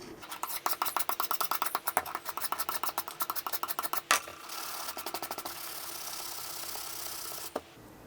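Garden secateurs blade being gently rubbed on a sharpening stone to remove the burr from the flat side, a rapid series of short scraping strokes in fast rhythm, then a pause and a second quicker burst, close and alone.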